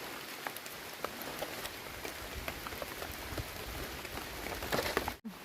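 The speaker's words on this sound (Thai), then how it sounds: "ตกใส่โทรศัพท์ตึกๆเลยฝน" Steady rain patters close by, dense drops tapping on a phone throughout with a brief dropout near the end.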